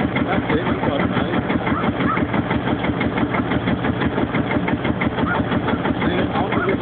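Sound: big single cylinder Field Marshall tractor engine running

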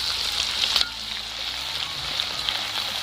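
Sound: raw rice frying in hot oil in a wok

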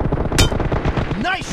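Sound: M416 rifle gunfire in a shooter video game

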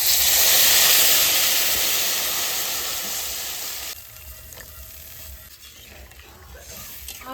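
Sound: water added to frying potatoes sizzling in a pan

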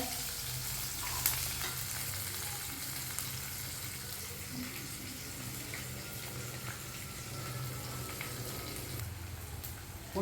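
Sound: onion and curry leaves frying in pan

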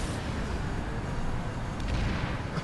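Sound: mounted gun firing in video game PlanetSide 2

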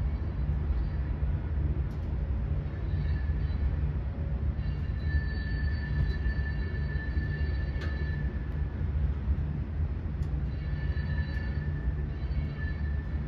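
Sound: CSX train passing in North Carolina

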